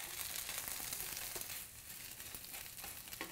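Tofu pieces frying in a pan for an orange-ginger stir-fry, giving a steady, dense sizzle with crackling pops throughout and no voices.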